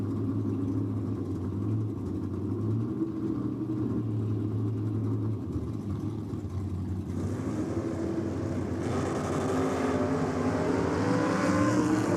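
Drag racing cars, one of them a Camaro, roar loudly and continuously at an NSW championship meet, with engine pitch climbing and the noise swelling partway through as they launch down the strip.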